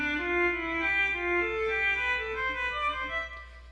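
A violin plays a scale in second position, alternating through a quick run of bowed notes, close, fairly soft and alone with no talking.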